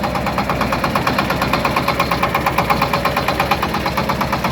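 A Shifeng SF-240 belt-driven mini tractor engine idles steadily nearby, its rapid, even chugging pulses repeating without a break.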